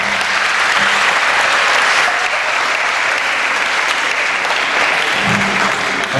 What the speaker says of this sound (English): please give a warm round of applause to our speaker